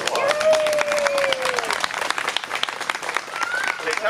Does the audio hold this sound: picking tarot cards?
no